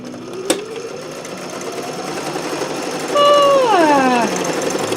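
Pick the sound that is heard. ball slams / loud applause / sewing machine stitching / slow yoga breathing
sewing machine stitching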